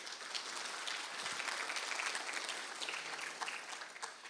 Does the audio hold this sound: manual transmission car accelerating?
no